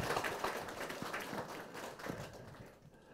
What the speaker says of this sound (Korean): 다시 한번 박수로 환영해주십시오